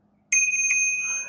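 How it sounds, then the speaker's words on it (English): A bicycle bell on a gravel commuter bike rings twice in quick succession, a bright, clear metallic ding close by, its tone ringing on and fading in a quiet setting. "I got a bell here."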